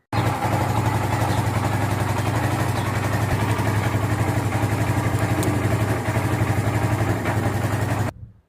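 A Kawasaki Barako 175 motorcycle idles steadily nearby with a continuous low, even engine putter, then the sound cuts off abruptly near the end.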